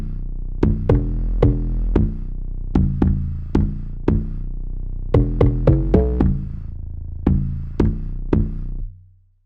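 Amapiano log drums are layered with an 808 bass and an attack log drum on top, giving punchy, booming hits in a syncopated pattern. A fast cluster lands near the middle, and the last note fades out at the end.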